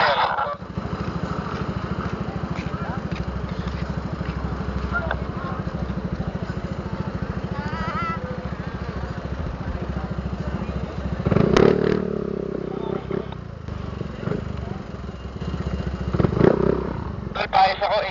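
A motorcycle engine idles with a steady, rattling chug, then revs sharply twice in short surges near the end, while people talk and call out nearby.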